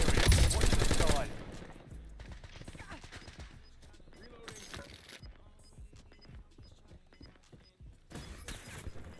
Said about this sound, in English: Somebody just sniped at me.